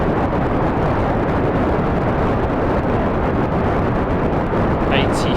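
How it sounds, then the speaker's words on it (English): Rocket liftoff in Kerbal Space Program with solid boosters firing: a loud, steady, broadband roar that holds without a break, with a faint chirp near the end. "And we have another successful liftoff, at least."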